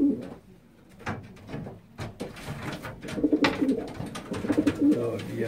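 Pigeons coo in a loft in soft repeated rolling calls, clearest in the second half, with occasional rustles and bumps nearby.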